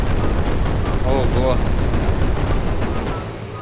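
Cannon blast in the Brick Rigs video game, a rough burst of explosive gunfire-like noise over rumbling in-game engine and track sounds, with people talking over it.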